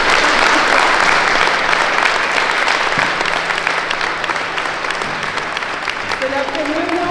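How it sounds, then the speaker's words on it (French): Loud, sustained audience applause at a judo day event welcoming Kelvin Ray and Emma Mélis, dense clapping from a large crowd that slowly thins, with a voice starting to speak near the end. "je vous demande de souhaiter la bienvenue à Kelvin Ray et Emma Mélis par des applaudissements"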